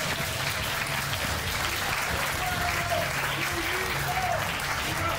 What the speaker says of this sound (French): Un grand applaudissement s'il vous plaît